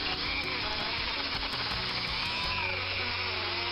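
High-pitched whine of a small power tool stripping melted paint off a Gran Torino model body down to bare metal, steady and close, with faint bursts of scraping as it works the surface.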